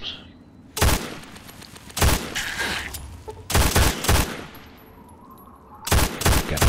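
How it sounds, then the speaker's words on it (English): Video game gunfire: four loud, clustered bursts of rapid shots about every second or two, each followed by fading reverberation, with quiet gaps between and no talking. "Test the guns a bit."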